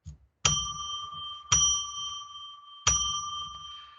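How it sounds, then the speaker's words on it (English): A small ritual bell rung three times to mark a sacred space, each clear ringing strike sustaining and slowly fading before the next, evenly spaced and close. "let me ring a bell 3 times to declare sacred space"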